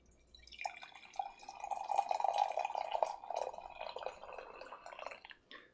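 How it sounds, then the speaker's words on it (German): Water is poured into a Harry Potter cauldron-shaped mug, a steady liquid splash and trickle running for several seconds before tapering off, close and fairly quiet with no talk. "wir befüllen unsere wunderschönen Harry Potter Kesseltasse"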